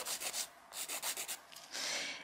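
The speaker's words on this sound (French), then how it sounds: "Là, on peut limer dans les deux sens." A nail file rubs back and forth across a natural fingernail in quick, soft rasping strokes, close and quiet, ending in one longer continuous stroke.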